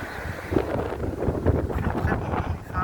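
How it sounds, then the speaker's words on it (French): Strong wind roars and buffets the microphone in steady gusts outdoors near a pedestrian crossing, with faint muffled sounds mixed into the rumble. "Il fait beaucoup de vent"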